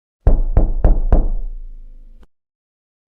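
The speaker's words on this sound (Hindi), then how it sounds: "दस्तक फिर से सुनाई देती है" Four sharp knocks land on a door in a Hindi horror cartoon, evenly spaced and loud, each ringing out briefly. A lingering tone fades out, followed by silence and then one last faint click.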